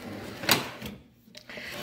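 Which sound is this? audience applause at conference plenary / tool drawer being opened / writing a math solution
tool drawer being opened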